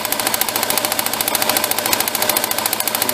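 Engine of a 2000-2010 Dodge Caravan idling close by, a steady fast rhythmic ticking pulse over a dense hiss, running smoothly after earlier misfire troubles.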